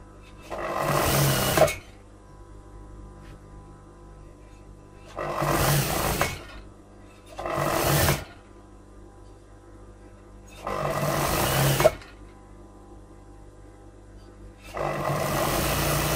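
Sewing machine stitching fabric in five separate runs of a few seconds each, steady whirring bursts separated by quiet gaps, close and clear with no talking.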